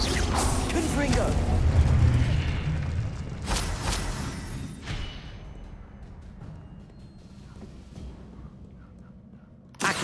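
A Confringo blasting spell goes off in Hogwarts Legacy: a loud burst and rumbling explosion up front, then a few sharp impacts, and the rumble dies away into quiet before a sudden hit at the end.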